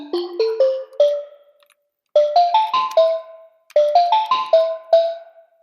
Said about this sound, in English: This says Bell Concrete Marimba.